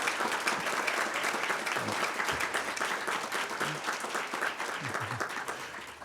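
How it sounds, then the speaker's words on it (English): Sustained audience applause at an awards ceremony for youth human rights honorees in a banquet hall, a dense, steady clatter of many hands filling the room for several seconds with no voices over it. "Let's give one more round of applause for all of our award recipients."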